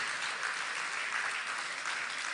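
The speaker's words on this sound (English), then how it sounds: "A big round of applause for the amazing Katerina and Mr." A conference audience claps in sustained, dense applause that holds at an even level throughout, with no single claps standing out from the wash.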